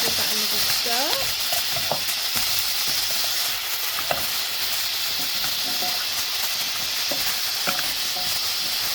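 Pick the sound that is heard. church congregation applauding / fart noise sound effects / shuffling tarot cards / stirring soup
stirring soup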